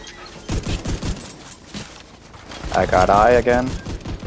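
Gunfire rattles in a shooter video game, a fast fusillade of rapid shots under close team chatter, bursts stacking up in the second half.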